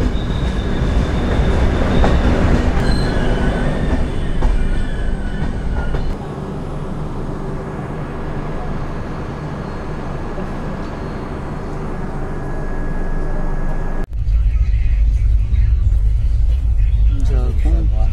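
Amravati Express 18047 rolling on the rails, a loud steady rumble of wheels and carriages with a faint squeal, dropping briefly in level and then surging louder near the end, with voices talking over it.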